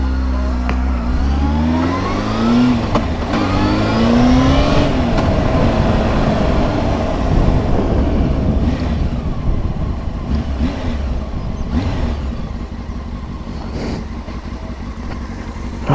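A Honda Hornet CB600S motorcycle engine while riding, rising through revs in a couple of climbing pulls early on, then holding a steady drone with wind rush, close and loud, no talk.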